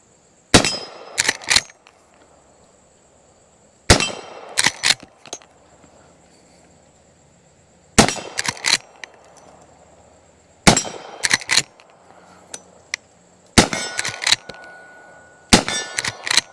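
Henry .357 Magnum lever-action rifle shooting .38 Special rounds at a close-range steel target outdoors: six sharp, evenly spaced shots, each followed by a bright ringing clang of struck steel and a short pause.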